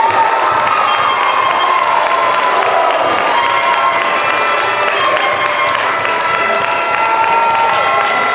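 A crowd at a Year 12 farewell assembly for graduating students cheers, shouts and applauds loudly and continuously, a dense roar of voices and clapping with no pause.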